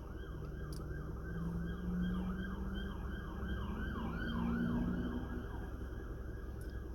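Wailing emergency sirens sweep up and down continuously outside, a steady loud cycling over a low rumble of road traffic, with no talking.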